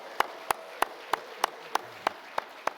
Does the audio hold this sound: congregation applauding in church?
yes